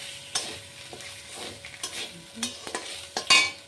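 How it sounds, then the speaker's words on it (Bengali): Ground ginger and cumin paste fries in a pan while a spoon scrapes and stirs it, producing a steady soft sizzle punctuated by irregular clinks and scraping strokes close by. "আদা জিরেটা ভাজা ভাজা হয়ে গেছে।"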